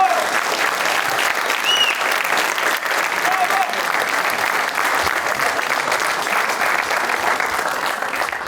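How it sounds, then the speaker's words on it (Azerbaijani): Studio audience applauding a team on a comedy stage show, dense steady clapping sustained at full volume throughout with a few faint whistles above it, no speech. "Gəlin komandanı alqışlayaq əziz dostlar"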